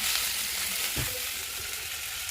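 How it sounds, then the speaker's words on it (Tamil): Four chopped onions sautéing in a pan for a vegetable kuruma, giving a steady, close, continuous sizzle and crackle with a brief stir sound near the middle. "வெங்காயம் வந்து நல்லா வதங்கிச்சு."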